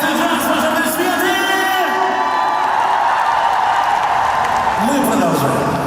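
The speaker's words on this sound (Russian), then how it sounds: "Чтобы не стыдиться, ваши аплодисменты!" A concert crowd at a show in Yakutsk applauds, whoops and cheers, a dense, loud, steady roar of many voices and clapping that lasts throughout.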